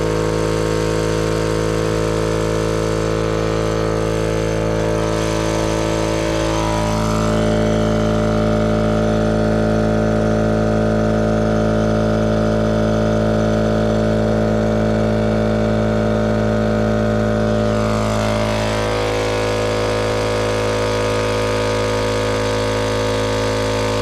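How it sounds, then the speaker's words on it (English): A big generator runs steadily under load while powering an air compressor, a constant loud engine drone with strong low hum and brief shifts in tone around the middle and near the end; no talking. "I have to use my big generator to run the compressor."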